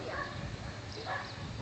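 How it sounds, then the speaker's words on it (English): A search dog at a demonstration event gives two short barks about a second apart, faint and somewhat distant over background noise. "And you notice he's barking."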